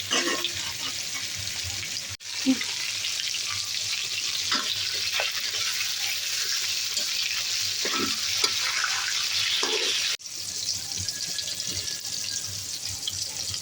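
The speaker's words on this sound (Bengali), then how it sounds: "আজকে রুই মাছ ভাজা, বেগুন ভাজা, আলু ভাজা, এই খাওয়ার মেনুতে" Rohu fish frying in oil in a pan, a close, steady sizzle that runs throughout, broken by a few scraping stirs and soft clinks.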